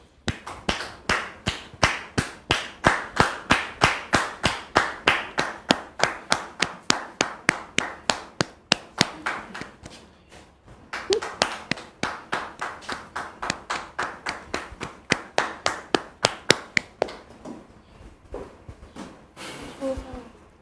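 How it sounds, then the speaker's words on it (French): Audience applause in a performance hall, a steady run of sharp rhythmic clapping that stays close and loud for about twenty seconds, thinning briefly near the middle before picking up again. "Sous vos applaudissements, s'il vous plaît."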